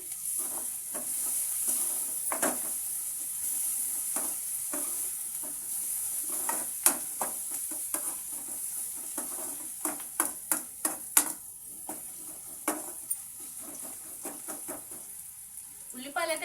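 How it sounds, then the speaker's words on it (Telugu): Turmeric being stirred into a frying curry for an egg omelette curry, heard as a steady close sizzle with a run of sharp spoon scrapes and clinks against the pan, thickening toward the end. "ఒక స్పూన్ పసుపు వేసుకుంటున్నాను బాగా కలుపుకుందామండి"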